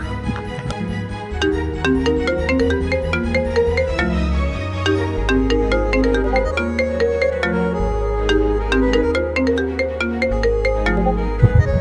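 A phone ringtone for an incoming call plays loud and steady on its own, a repeating electronic melody over a bass line that loops for the whole stretch.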